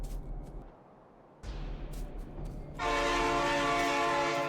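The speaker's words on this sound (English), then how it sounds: "Train!" Train horn blasting in the game Factorio, a sustained loud tonal chord that cuts in after an earlier rising whoosh as a train rushes past, with rumbling rail noise underneath.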